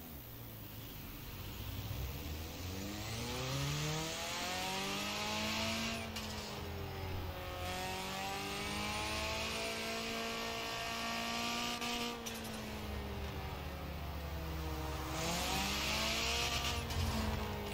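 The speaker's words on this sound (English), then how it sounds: "I actually like the way the turbo sounds on this, though." A turbocharged car revs continuously in Forza Horizon 4, the engine note climbing and falling through gears with a loud, sustained roar and occasional tire hiss, no talk over it.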